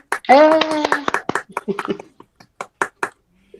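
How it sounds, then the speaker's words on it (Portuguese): After a brief voice at a nutrition training session with students, a few scattered hand claps follow, sparse and uneven rather than a full burst of applause. "Aplausos para a Venile."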